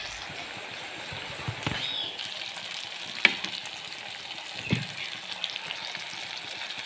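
Turmeric added to hot oil in a pan for fish curry, giving a steady close sizzle with a few scattered clicks and taps of a spoon stirring, and no talking.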